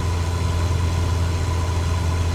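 A steady, droning aircraft engine holds a constant low rumble during a climb in Microsoft Flight Simulator 2024, loud and unchanging throughout, with no voices.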